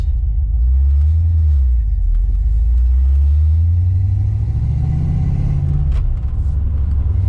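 A car with a high-idle fault runs at a raised idle, its loud, close, steady low engine rumble swelling slightly and settling, with no one talking.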